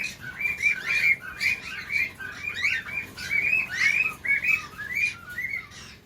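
Cockatiels and parrots in a mixed aviary chirp and whistle continuously, a bright chattering flock heard fairly close with no talking.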